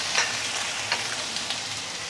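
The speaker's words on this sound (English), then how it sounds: "After a while, push the ginger aside, put in the prawn." Prawns and ginger sizzle and fry in a hot pan, a steady close hiss with a few brief stirring scrapes and no voices.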